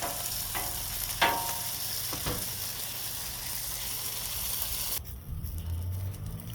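Food sizzling on a hot plancha griddle, a close continuous crackling hiss with a few sharp scraping stirs early on, the sizzle cutting out near the end and leaving a low rumble.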